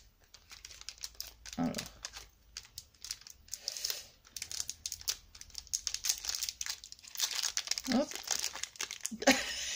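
Cardboard advent calendar door being cut open and torn, a run of crinkling, crumpling and ripping noises close by, with a few short spoken words mixed in.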